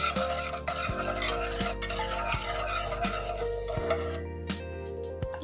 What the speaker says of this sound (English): And all we're going to do is whisk it together and keep on whisking it until it turns golden brown.